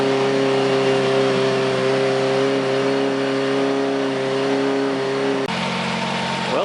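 A car engine idles steadily with a droning hum, then near the end the tone shifts abruptly as an automatic electric radiator cooling fan kicks on, adding a broad whooshing layer close by.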